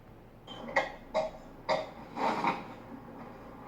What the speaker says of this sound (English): She coughs for a while.